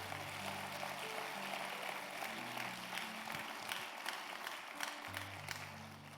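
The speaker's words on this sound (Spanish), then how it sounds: "Si se lo va a dar, denle el aplauso al Señor." Congregation applauding in a church during a Spanish-language sermon, a steady wash of clapping that fills the room from start to finish while a low musical tone sustains beneath it.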